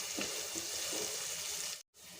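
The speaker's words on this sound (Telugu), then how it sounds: "ఆయిల్ హీట్ అయ్యాక ఆనియన్స్ని వేసుకోండి హై ఫ్లేమ్లోనే వీటిని ఫ్రై చేయండి" Onions fry in hot oil over a high flame, giving a steady, dense sizzle close by with faint stirring, until a brief cut near the end.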